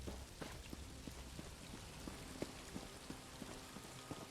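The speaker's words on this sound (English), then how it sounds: "Let's get in out of the rain, shall we?" Rain falls steadily in a video game, a faint, even patter with scattered droplets and no voices.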